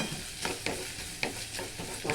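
Egg mixture with turmeric sautéing in a pan for egg bujji, a steady close sizzle broken by several sharp spatula scrapes and taps at irregular intervals.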